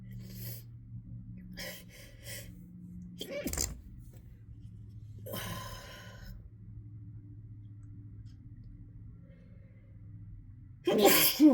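A person sneezes hard several times in a row, with sharp bursts and gasping breaths between them and a final loud sneeze at the end, set against a low steady hum.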